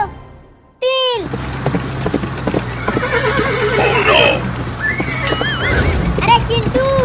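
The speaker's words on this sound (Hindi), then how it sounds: "अरे चिंटू, बाबू का घोड़ा तो पहले ही रेस में आगे हो गया।" A cartoon horse in a race lets out a loud whinny, then its hooves clatter in quick rhythm under a busy bed of music, cartoon effects and other sounds.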